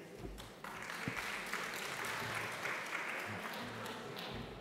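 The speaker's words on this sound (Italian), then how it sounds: "Grazie per l'applauso" Audience applause for a lecturer at an art history talk, faint and steady clapping from a room of listeners sustained throughout.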